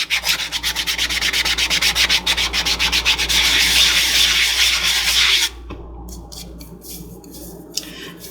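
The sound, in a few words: sanding block on tumbler rim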